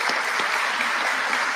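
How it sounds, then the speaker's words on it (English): Crowd applause at a public safety announcement by the governor, dense and steady clapping filling the whole stretch at an even, fairly loud level. "Let's give her a round of applause."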